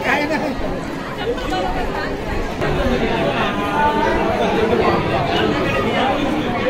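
Dense crowd chatter at the Girobā temple village fair in Sangeli, a steady babble of many voices close around, with no pause, as devotees queue with coconuts and offerings.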